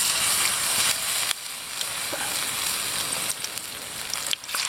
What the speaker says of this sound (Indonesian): untuk minyak gorengnya udah panas, langsung kita goreng.